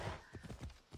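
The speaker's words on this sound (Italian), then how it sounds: "Cavallo va lento, più veloce di così non va." Horse hooves trotting in the video game Assassin's Creed Odyssey, a run of rhythmic clip-clop beats, fairly close and alone with no talk over them.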